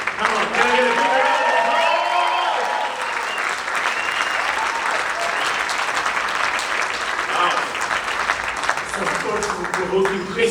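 A large conference audience at a leadership event applauds loudly and steadily for about ten seconds, a dense wash of clapping with voices and cheers mixed in throughout.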